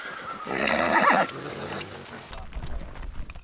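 A horse neighs loudly and close by during a ranch horse drive, a drawn-out whinny followed by quieter outdoor rustling and low movement.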